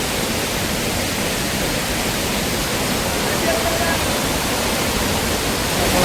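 Heavy rushing water pours down at Devkund waterfall, a constant broadband roar heard up close, even and loud throughout.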